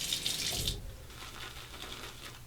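A tap runs water briefly for working up shaving lather, with a loud splashing gush for under a second before easing into quieter trickling and wet movement.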